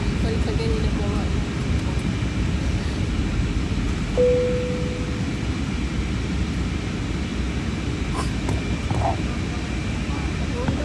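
Steady broadband roar of a passenger airplane cabin in flight, a continuous dense engine and air rush filling the whole span, with a brief soft chime tone partway through and faint voices underneath.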